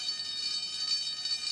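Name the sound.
fire alarm sounding in cartoon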